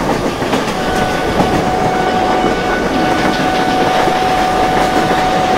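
An Indian intercity superfast express in the Open Rails train simulator runs at full throttle, a loud, steady roar of wheels and rumbling rail noise with a faint tonal hum throughout, no voices.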